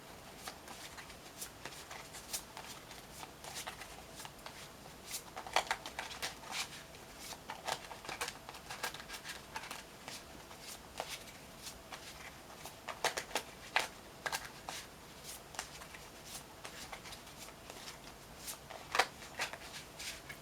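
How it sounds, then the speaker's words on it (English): Tarot cards are shuffled over and over in soft riffling bursts, close and quiet, with brief pauses between rounds. "I do shuffle my cards until I really feel that it's right to put them down."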